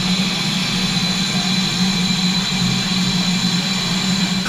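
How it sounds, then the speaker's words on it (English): A steam locomotive on a heritage railway gives a steady, loud mechanical roar with a constant low hum and hissing, running close by without pause. "Clouds of steam and lots of whooshing are all part of a busy steam railway"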